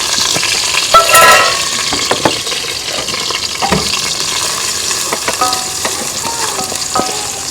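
Tomatoes go into a pot for Ewe fish soup, sizzling and frying steadily while a spoon stirs and scrapes in short bursts, close up with no talking.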